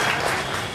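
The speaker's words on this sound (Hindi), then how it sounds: "एक जोरदार ताली होनी चाहिए" A brief burst of audience clapping at a Patna office inauguration ceremony, a dense wash of hands that stays fairly loud and even before tapering slightly within the short moment.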